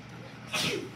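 A single sharp sneeze bursts out of a quiet room, brief and breathy, then fades back to stillness.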